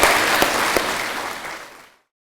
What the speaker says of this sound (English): Round of applause to Mr.